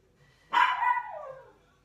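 One close, loud dog bark indoors that stretches into a falling, whiny yelp before fading, with quiet around it.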